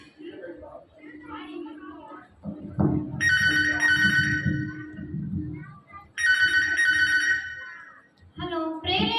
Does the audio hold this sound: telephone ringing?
yes